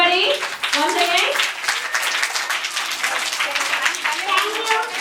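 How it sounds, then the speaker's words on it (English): Children clap together in a lively burst at a fruits day celebration, dense applause running steadily throughout with voices talking over it. "Claps to them, everybody."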